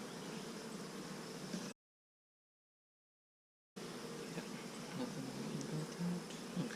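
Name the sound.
Italian honey bees buzzing around the hive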